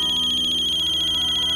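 A mobile phone ringtone rings with a steady, loud electronic melody that holds unbroken throughout, close and alone with no voices.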